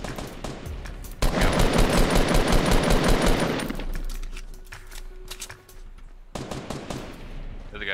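Rapid bursts of automatic gunfire in the Fortnite video game, a long loud volley followed by quieter fire and then another sharp burst, with players talking over it.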